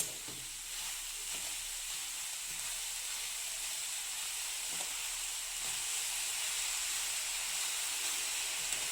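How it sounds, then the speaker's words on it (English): Grated carrots and sugar for gajar ka halwa heat in a hot pan, producing a steady, even sizzle and hiss that runs unbroken throughout, with a few faint stirring scrapes and no voices. "Add sugar to the well-heated carrots and mix the sugar well and let it heat."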